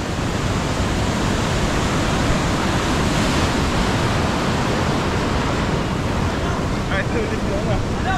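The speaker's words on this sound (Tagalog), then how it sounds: "Lakas ng alon." Heavy sea waves pound the shore during a typhoon: a dense, continuous roar of surf and wind that stays loud and steady throughout, with no clear breaks between swells.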